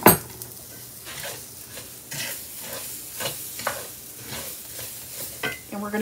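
Garlic and onion sizzle in a pan while being stirred, with a soft constant frying hiss broken by repeated scraping strokes and light clinks of utensil on cookware, close and without talk.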